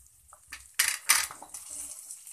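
Cabbage tipped into a pan of roasted peas and spices: a clatter of utensil on metal, then a short hiss and rustle as the shreds land and begin to sizzle, close and fairly quiet.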